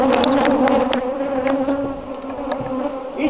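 Honeybees buzz around a hive in the shade of a building, a steady dense drone with a few individual bees zipping close past, no talking.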